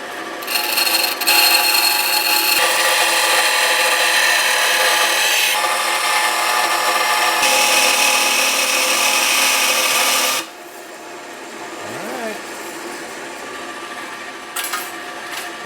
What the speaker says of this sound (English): I'm going to try to use a bandsaw.